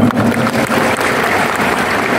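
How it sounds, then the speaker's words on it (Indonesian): An audience of 855 young ambassadors at an event with the Governor of West Java applauds, a loud, dense burst of clapping that holds steady throughout. "Tepuk tangan untuk kita semua"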